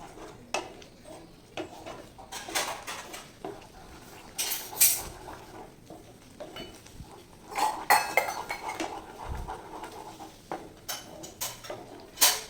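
Wheat halwa cooking with ghee in a pan is stirred steadily, giving soft scraping and intermittent metallic clinks of a spoon against the pan, close by and without talk.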